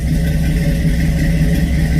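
A 1970 Ford F100's 460 big-block V8 idles steadily and loudly up close, with a deep, throaty, rumbling, slightly uneven burble through Flowmaster true dual exhaust.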